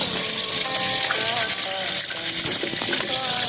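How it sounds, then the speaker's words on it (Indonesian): Tofu fries in a pan at a mountain campsite, a steady dense sizzle and crackle with faint voices and some tonal sounds mixed in over the whole stretch. "Ini lagi goreng tahu."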